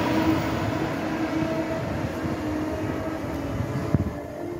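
Low, steady rumble of a train running along track 4 at Älvsjö station, Sweden, with a sustained droning hum and a brief clunk near the end.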